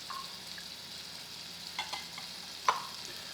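Pieces of meat browning and crisping in a pan give a faint, steady frying hiss, with a few soft clicks and one sharper tap near the end.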